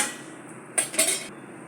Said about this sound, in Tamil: நம்ம அதுக்குள்ளே இந்த பக்கம் கடாய் வச்சு வடைக்கு எண்ணெய் ஊற்றிக்கலாம்.